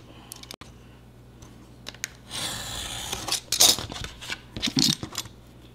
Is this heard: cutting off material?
yes